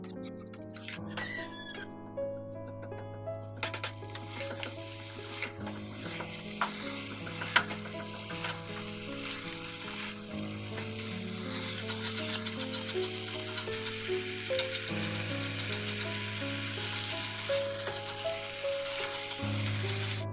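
Mutton sizzles steadily as it is sautéed in a pan for a Bengali mutton and potato curry, with occasional scrapes and clinks from stirring over a continuous frying hiss, no voices.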